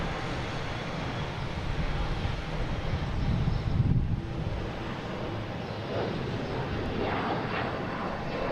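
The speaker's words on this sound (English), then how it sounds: "JetBlue coming in from London Heathrow, flight 1621." JetBlue Airbus A321neo airliner landing at Boston Logan, a steady broadband engine roar with wind buffeting that swells slightly near the middle and holds on at a distance, with no talking.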